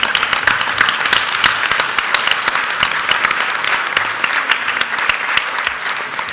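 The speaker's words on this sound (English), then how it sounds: "That's an applause line." Sustained, dense applause from an audience at the New Jersey State Council on the Arts annual meeting, steady and loud with many overlapping claps throughout.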